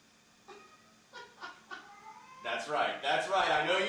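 A person imitates a cat's meow with several short, rising vocal calls, followed by louder overlapping voices and bustle at a mom's 60th birthday surprise party.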